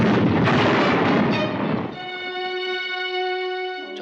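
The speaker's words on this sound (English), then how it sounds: "decides to shoot off this ancient cannon to attract the Black Menace" An ancient cannon fires with a heavy booming blast and a rumbling, roaring tail that lasts about two seconds before dying out, leaving a sustained musical tone behind.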